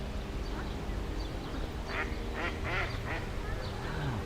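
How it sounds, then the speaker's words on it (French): Several ducks quack on a pond where tourists ride boats, with a run of loud, close calls in the middle and scattered quacks around it over steady outdoor background noise. "petit aparté pour vous montrer les quelques canards"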